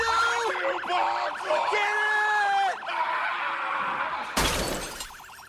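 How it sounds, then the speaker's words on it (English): A service car siren in the video game Project Zomboid wails with rising and falling pitch over game noise and voices, then a sudden harsh crash near the end. "I saw a service car in the parking lot and turned on its siren"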